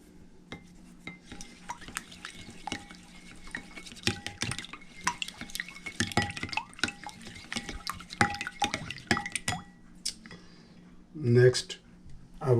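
Beaten eggs are whisked in a bowl for a quick breakfast, with quick irregular clinks and taps of utensil on bowl, close and moderately loud, ending with a few louder knocks.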